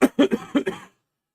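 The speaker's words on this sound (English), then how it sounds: "I'm sorry for my cough" A woman coughs in a quick series of five or so dry, close bursts, the last ones softer, followed by silence.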